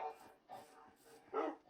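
A pet dog in Minecraft gives four short barks or yips in quick succession, the last one louder, heard alone and fairly faint.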